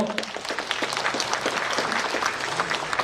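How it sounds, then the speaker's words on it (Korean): An audience at a book launch and book concert applauds in a thick, continuous patter of many hands, moderately loud and steady through the short stretch. "감사의 박수 부탁드릴게요."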